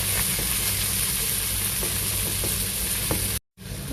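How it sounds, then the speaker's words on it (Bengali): Onions frying in a pan until reddish, with a steady broadband sizzle and faint stirring clicks throughout, close and moderate in level, briefly cut out near the end. "পেঁয়াজগুলো একটু লাল লাল করে ভাজবো।"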